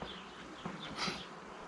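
A dense, close hum of honey bees buzzing steadily on brood frames of a hive, with a few individual insects swelling louder as they pass near.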